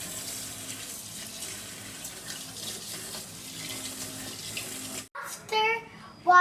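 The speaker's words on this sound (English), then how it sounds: "First, let's go put on some water." Kitchen tap running steadily into a pot to wash rice, a continuous close hiss and splash for about five seconds before cutting off, followed by brief voices.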